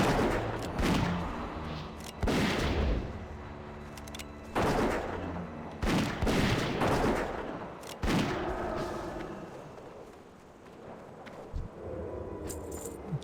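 A Worgen hunter's gun fires in World of Warcraft Cataclysm, with loud, sharp shots spaced roughly every two seconds and ringing tails between them.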